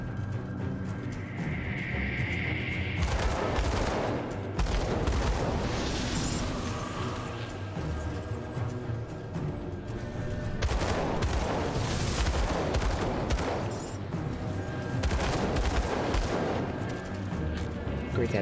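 Dual pistols fire in rapid bursts in the action RPG Grim Dawn, loud cracking volleys with booming impacts in two long clusters separated by a short lull.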